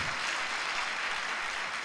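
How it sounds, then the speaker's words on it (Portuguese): Church congregation applauding during a worship service, an even, soft wash of many hands clapping heard from a distance, steady throughout with no voices on top. "Pode dar um aplauso bem forte a Jesus"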